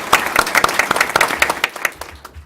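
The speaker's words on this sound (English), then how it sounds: "that deserves a round of applause" An audience at a community State of the Community event breaks into steady applause, dense overlapping claps filling the room at close range and tapering slightly toward the end.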